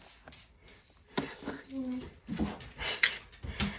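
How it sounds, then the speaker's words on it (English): A dog whines briefly at close range in a room, a thin, high, wavering whimper lasting under a second, with quiet shuffling and background noise around it. "here's the dog coming to say hello. Have a little whine at me."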